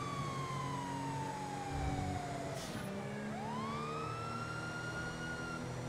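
Police car siren in the GTA video game, a loud continuous wail sweeping slowly down then rising again, heard alone over steady engine and road noise.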